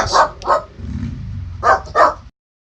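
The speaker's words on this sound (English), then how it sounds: "My dog's probably going to be barking in the background" A dog barks close by, four sharp barks in two pairs with a low rumbling growl between them, then silence.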